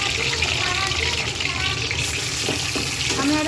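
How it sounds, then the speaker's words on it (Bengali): Eggs sizzle and crackle in hot oil left over from frying potatoes, a loud, continuous frying hiss up close with faint stirring, as part of making chicken biryani. "আলু ভাজার তেলে ডিমগুলো একটু হালকা করে ভেজে নিচ্ছি।"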